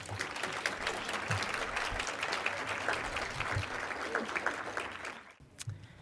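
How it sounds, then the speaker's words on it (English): An audience at a bar association women's committee scholarship tea applauds steadily, a dense wash of clapping hands at moderate distance that thins out near the end. "Can we please give her a round of applause?"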